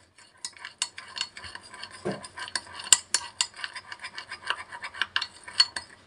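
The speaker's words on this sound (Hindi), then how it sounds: "इसे अच्छे से मिक्स कर लेंगे" A spoon stirring alum powder into amla juice in a small container, quick scraping clinks and rubbing taps in an uneven rhythm, close and clear with no talking.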